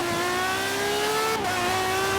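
A Ferrari engine in the racing game Forza Horizon 3 holds a steady high tone, shifting briefly mid-way, loud and continuous with no talk.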